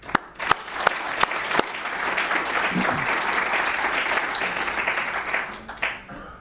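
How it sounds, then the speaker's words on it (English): A few sharp, separate claps open, then the applause swells into a sustained round from the audience at a university professorship investiture ceremony and fades out at the end. "and it deserves a clap"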